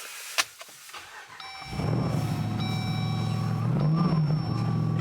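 Supercharged Hellcat V8 in a Jeep Gladiator pickup with heavy one-ton axles, heard from inside the cab as the engine starts and settles into a loud, steady low idle rumble that swells briefly near the end.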